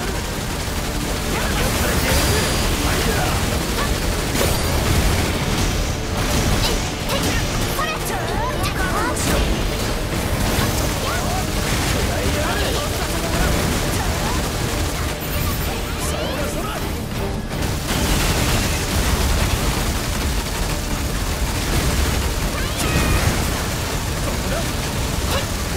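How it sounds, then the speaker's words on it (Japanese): Artillery bombardment raining down from above in the video game Granblue Fantasy: Relink, a dense continuous barrage of blasts, crashes and impacts over rumbling noise, with spoken dialogue running under the din. "上空から砲撃ですが、ハイユタールの走行ならびくともしません。"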